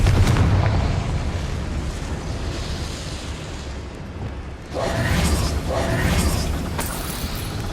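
In the Hogwarts Legacy video game, a Confringo blasting spell sets off a loud, close booming rumble with sustained crackling blast noise, and a second burst follows about halfway through.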